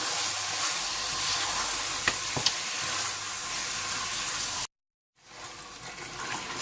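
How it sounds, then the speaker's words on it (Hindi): Mutton sizzles and fries in a pot with turmeric and salt, a steady broadband crackle with a few sharp spoon clicks, breaking off briefly into silence before the frying hiss resumes close and loud. "आप इसमें हल्दी पाउडर डाल दें और हस्बे ज़रूरत नमक डाल दें और गोश्त को अच्छी तरह से भून लें"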